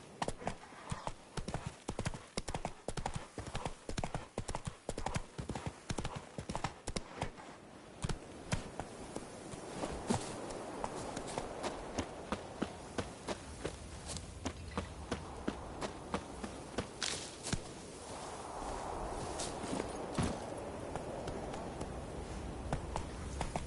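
Horse hoofbeats clip-clop in The Witcher 3 video game as the mount is ridden, a steady walking beat that breaks into a faster gallop, close and clear over faint ambient game sound.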